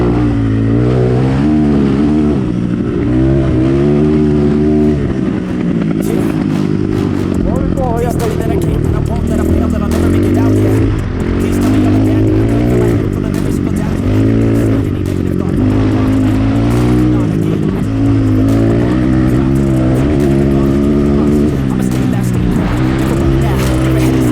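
A BSE 250 enduro motorcycle engine drones and revs steadily while riding through a forest, its harmonic pitch rising and falling continuously and loud throughout, with someone talking over it.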